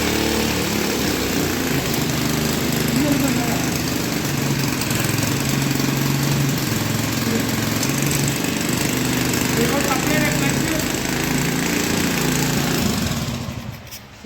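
An internal combustion engine on an air brake test rig runs continuously and loudly up close, a steady buzzing drone that cuts out abruptly at the end.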